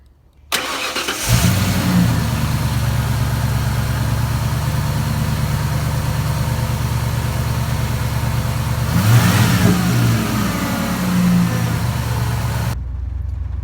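A 1996 Ford F-150 engine cranks and starts after a spark plug change, then runs at a steady loud idle with a brief rev partway through before cutting off.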